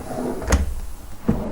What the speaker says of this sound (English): It's my first time using these type of drawer slides.